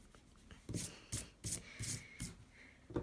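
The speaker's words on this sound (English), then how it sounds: "you're just going to use our rubber, and ever so carefully we're going to rub those lines out" A rubber eraser rubbing pencil lines off paper, heard up close as a handful of quick, soft back-and-forth scrubbing strokes with brief pauses between them, quiet and with no talking.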